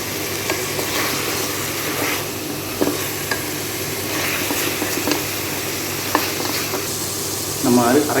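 Mushrooms with biryani masala, cinnamon, cloves and cardamom fry in a pan, a steady close sizzle broken by occasional scraping stirs and spoon knocks, with no voices.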